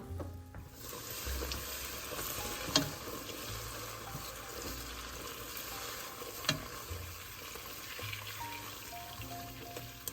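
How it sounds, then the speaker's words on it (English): Butter heating in a pan toward browning for fudge, giving a soft continuous sizzle with a couple of sharp clinks of a utensil against the pan; fairly quiet, with no voices. "And we're going to wait for our butter to get browned."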